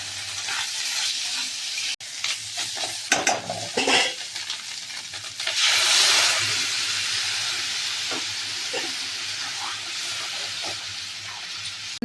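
Tomato paste fries in a pan for tomato soup, a steady sizzling hiss with occasional stirring scrapes and a brief louder burst of steam midway, close and continuous with no talk.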